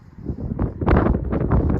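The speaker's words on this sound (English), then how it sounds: "yeah, a bit windy, but it's dry for a minute." Gusty wind buffets the microphone with rumbling low roars that swell and ease, loud and close, with no voices.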